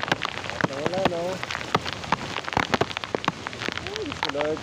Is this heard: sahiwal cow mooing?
no